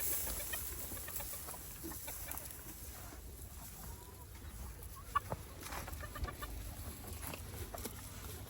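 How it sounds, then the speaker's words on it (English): Farm chickens cluck and murmur softly at a distance over a steady outdoor hiss, with one sharper cluck standing out near the middle and no talking. "Come on, chickens."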